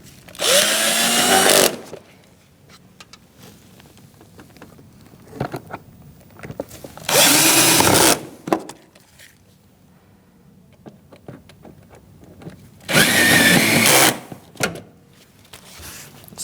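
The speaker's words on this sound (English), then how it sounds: "Switch to my screw gun." A cordless screw gun drives screws into a 2016-2019 Chevrolet Cruze air filter housing in three separate whirring bursts of about two seconds each. Quieter clicks and handling noises fill the gaps between bursts.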